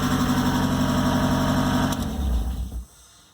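An old car engine idles with a loud, harsh exhaust drone, steady and close, then shuts off and drops away near the end.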